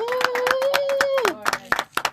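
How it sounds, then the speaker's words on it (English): Hands clap in a quick, even rhythm close by while a voice holds a long whooping note that drops off partway through. "So let's definitely clap this."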